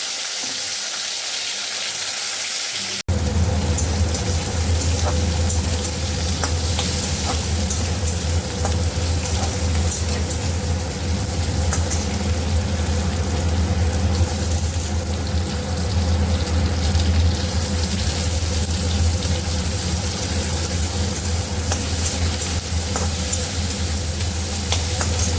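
A rohu fish curry with potatoes cooks in a pan, a continuous loud sizzle and bubbling with occasional stirring that starts abruptly and carries on steadily with no talking.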